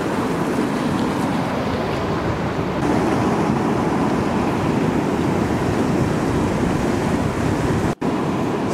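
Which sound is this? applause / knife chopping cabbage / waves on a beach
waves on a beach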